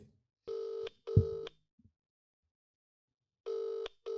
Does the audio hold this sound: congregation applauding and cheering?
no